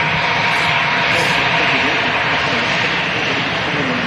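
Aircraft taxi at Manchester Airport toward runway 23 left, a loud, steady jet engine roar with broad hiss that holds constant and close throughout.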